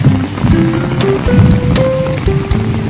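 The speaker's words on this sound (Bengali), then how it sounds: "2 ঘন্টা ধরে বৃষ্টি হচ্ছে।" Heavy, prolonged rain pours over a flooded village road during a thunderstorm, making a dense, steady hiss with a faint droning tone underneath.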